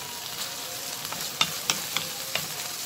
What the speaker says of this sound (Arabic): بس كده نشوح فيها برضو